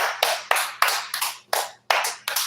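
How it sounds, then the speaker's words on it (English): A person claps by hand, about eight sharp claps in a loose, uneven rhythm, close and fairly loud with nothing else audible. "Get that hand clap."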